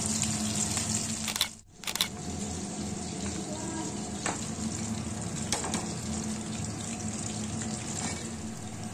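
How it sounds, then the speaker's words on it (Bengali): Bombay duck fish pakoras frying in oil on a low flame, a soft continuous sizzle with a brief clatter and a few sharp crackles, quiet and close. "লো ফ্লেমে ভেজে নেবেন, তাহলেই তৈরি হয়ে যাবে"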